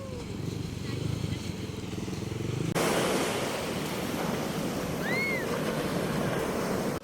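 Surf rolling onto a long, uncrowded beach at San Felipe, Zambales, a steady broadband wash that swells louder after a few seconds and carries on, with some wind buffeting mixed in.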